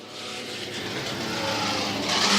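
Midget race car with a 600cc motorcycle engine racing on a speedway circuit, a loud continuous high-pitched engine roar that builds steadily over the whole stretch, with no talk.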